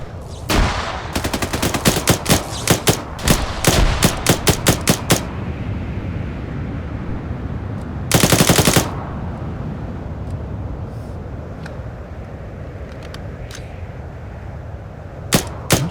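Automatic and single gunshots from a Stargate-themed ArmA military shooter mod crack out in rapid bursts early on, then a dense sustained volley around the middle, with sparse distant shots afterward over a steady ambient rumble.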